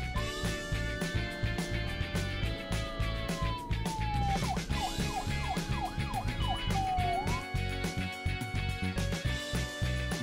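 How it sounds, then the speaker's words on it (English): A police siren wails with rising and falling yelps over a busy background of music and rumbling noise, loud and continuous. "Police car."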